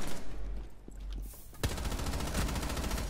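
Gunfire in an online multiplayer shooter, a dense rapid burst of automatic shots that starts abruptly and continues steadily, with muffled game noise before it.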